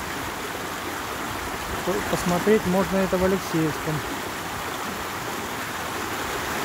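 Mountain stream in the private-sector hills of Lazarevskoye, Sochi, rushing in a steady broadband wash throughout, with someone speaking briefly over it in the middle.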